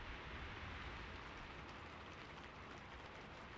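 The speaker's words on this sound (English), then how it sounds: "the sound of the rain lull her into a relaxed state" Soft, steady rain falling in a continuous gentle hiss, very quiet and even, with no voices.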